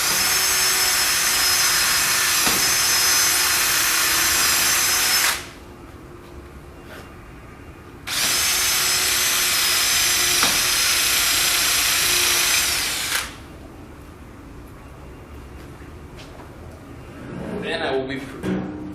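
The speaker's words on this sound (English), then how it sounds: "Now I will be pre-drilling through the transom down" A power drill bores down through the pre-drilled installation holes of a transom unit being mulled to a Neuma door. Two loud, sustained whirring runs of about five seconds each are split by a short pause, followed by faint handling noises.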